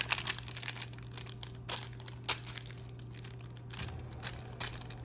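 Laminated paper craft is folded in half, giving quiet crinkling and crunching bursts at close range over a low steady hum, with no voices.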